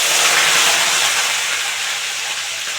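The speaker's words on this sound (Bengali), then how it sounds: "এই যে আগে পেঁয়াজটা ভেজে নেবো, বেরেস্তা করে নেবো আগে বন্ধুরা।" Sliced onions fry in ghee and oil for birista, giving a loud, close, continuous hiss of hot fat that eases off only slightly over a few seconds.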